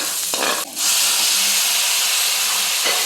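Garlic and onion sizzle in hot oil over a low flame for dinuguan, a loud, close, continuous hiss with a brief clatter near the start.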